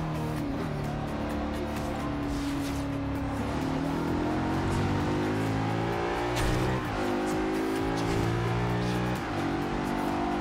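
An Audi RS7 Black Edition engine drones steadily while driving in the video game Forza Horizon 2, with a continuous loud note that shifts pitch as the car changes gear and brakes.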